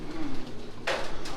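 Racing pigeons coo inside their loft, low soft throaty calls close by, with a brief rustle of movement partway through.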